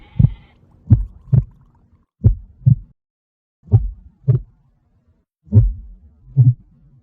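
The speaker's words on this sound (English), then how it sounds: "he began to hear a fast pulse in his head that got slower" Deep heartbeat pulse, paired thumps that come loud and close, spacing out as the rhythm slows across several beats, with no other sound in between.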